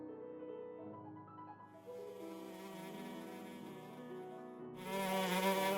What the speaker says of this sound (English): including this clumsy little black hoverfly